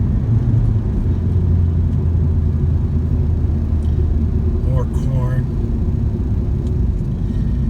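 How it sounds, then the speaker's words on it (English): A UPS delivery truck engine rumbles low and steady close by as it drives past, a continuous drone with a brief voice speaking over it. "UPS truck. It's not construction."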